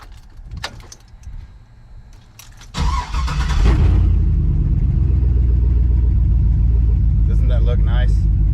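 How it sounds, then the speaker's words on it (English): A truck engine cranks to life after a light jangle of keys, then settles into a loud, steady idling rumble close by, with a brief voice near the end. "truck is running."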